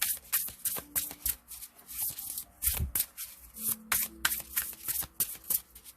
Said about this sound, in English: let's pull an Empathic Oracle card for you